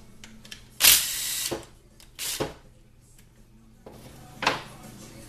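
A power tool removes 10mm bolts from a 6L80 transmission in three short whirring bursts, the first the loudest, with light clinks of metal between them.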